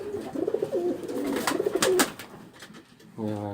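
Pigeons kept by a pigeon fancier in Dushanbe coo in soft, low, repeated phrases close by, mixed with sharper rustling and wing sounds and a voice.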